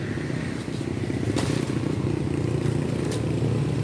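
A handheld machine cuts through wooden tree branches, working from the top down; a loud, close, steady engine drone carries a rough, rattling cutting texture throughout.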